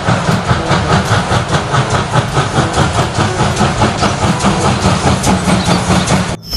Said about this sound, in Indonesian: ini kereta api uap.